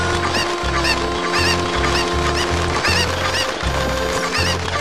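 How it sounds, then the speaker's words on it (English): Cucco chickens in the video game Zelda: Ocarina of Time cluck and squawk in a dense flock, loud and continuous over a pulsing game soundtrack, with no speech. "I have an army of cuckoos."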